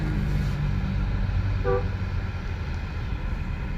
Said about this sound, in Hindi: ये हॉर्न जो है ये स्टॉक है ना?